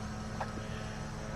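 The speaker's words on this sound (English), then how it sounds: "Sorry about the noise in the background. Somebody's mowing their lawn." Distant lawn mower droning steadily in a suburban neighborhood, a continuous low engine hum that stays even and faint throughout with no pauses.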